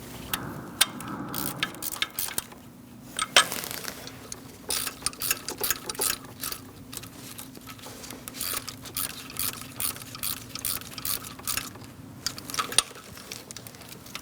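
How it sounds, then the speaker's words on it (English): A ratchet clicks steadily as it tightens the water pump bolts on a 2002-2006 Toyota Camry 2.4L four-cylinder engine. The close, rhythmic pawl ticks come in repeated bursts with short pauses between strokes. "we're going to go around torquing everything to 80 inch-pounds"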